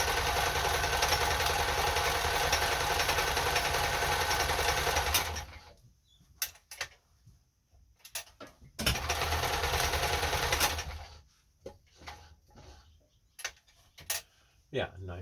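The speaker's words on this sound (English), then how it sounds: "12 for chain stitch you want about 2. Let's see how that does." A Kenmore 10 Stitch sewing machine runs a chain stitch in two steady, loud bursts of several seconds each, separated by quieter pauses filled with clicks and handling noises.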